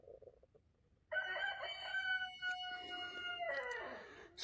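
A golden lace rooster crows at dawn in one long, loud, near call that starts abruptly and holds with a wavering, tonal cock-a-doodle-doo over quiet early-morning background, with no talking.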